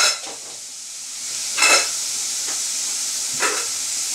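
Onions and meat fry in oil and ghee in a pan with a steady close hissing sizzle, broken by a few brief louder spatters and stirring scrapes.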